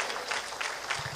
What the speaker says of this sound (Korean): 좀 박수 드리고 싶어요